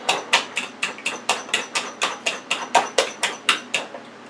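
Sour cream being mixed into eggs in a bowl for a jalapeño steak omelette, heard as a steady run of sharp utensil clinks against the bowl, about three per second, close and clear.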